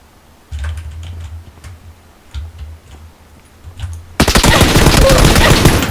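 Gunfire in PUBG on the Savage test map erupts suddenly as a loud, dense burst of rapid shots after several seconds of quiet low rumble, then carries on to the end.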